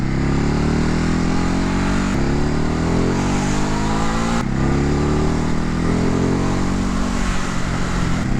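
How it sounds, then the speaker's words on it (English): A 2019 Ducati Hypermotard 950 motorcycle ridden up twisty hill roads, its engine loud and close, revving and climbing through gears with sharp drops at each shift. "This is what this bike was designed for, hooning up twisty roads up the hill."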